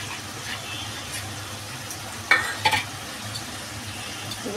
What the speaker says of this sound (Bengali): এবার এটা ফটাফট নেড়ে দেবো।